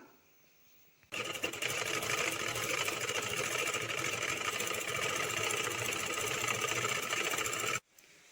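Sewing machine stitching a border onto a doormat made from waste clothes, a close, loud, continuous rapid mechanical whir that starts abruptly after a moment of quiet, runs for several seconds and cuts off sharply.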